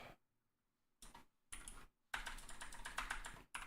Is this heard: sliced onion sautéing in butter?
no